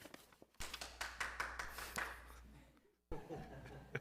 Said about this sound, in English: lot of clapping tonight